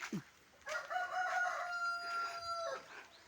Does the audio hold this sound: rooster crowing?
yes